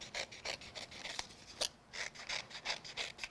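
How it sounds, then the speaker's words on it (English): Scissors trim the edge of a die-cut card with a quick run of crisp, close snips, followed by a short pause and a few more cuts. "keeping the scissors at an angle."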